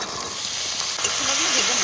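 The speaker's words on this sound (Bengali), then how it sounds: "ছোলাগুলো ভেজে নেব।" Soaked chickpeas hiss and crackle as they fry in hot tempering oil, a loud, close, continuous sizzle that swells slightly as they are stirred.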